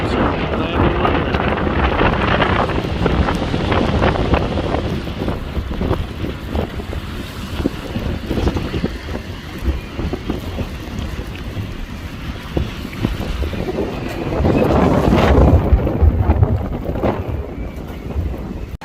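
A boat engine runs steadily while the boat sits in a calm harbor on Thunder Bay Island, a constant low rumble with some wind buffeting the microphone throughout.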